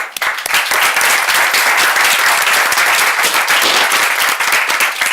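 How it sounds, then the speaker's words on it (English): Sustained, dense applause from a workshop audience for a speaker, steady and loud throughout with no talking over it. "I ask you for a big applause for Dr."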